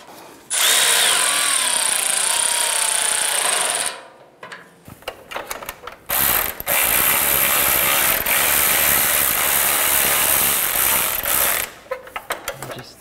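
A ratchet clicks rapidly and loudly while tightening license plate screws through the front bumper of a 2011-2018 Dodge Ram 1500, in two long bursts separated by a short pause, with no talking.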